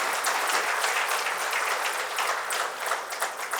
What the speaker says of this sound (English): I think we should just stand up for a minute and applause for Dennis